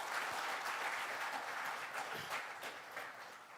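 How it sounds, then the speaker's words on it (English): Audience applause fills a hall at a research institute's platinum jubilee celebration, a dense, steady wash of clapping that holds for several seconds and eases slightly toward the end. "Please give a big round of applause for them."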